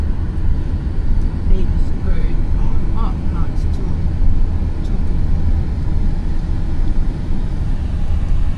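A car carrying passengers drives along on a trip in Chuuk, its steady engine and road rumble running loud throughout beneath people talking inside.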